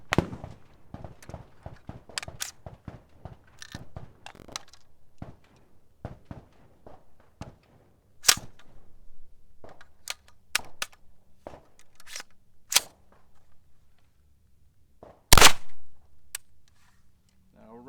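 Gunshots from a firearm being test-fired, some with feeding and ejection problems: scattered sharp cracks and pops at irregular intervals, a few louder close reports standing out, with quiet gaps and faint handling noise between.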